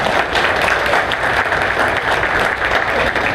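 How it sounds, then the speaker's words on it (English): Audience applause fills a political debate hall in Chipley, Florida, a steady dense wash of clapping from a sizeable crowd that holds at full strength throughout. "I was rudely interrupted by the applause out here"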